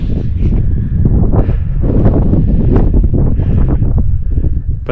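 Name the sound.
wind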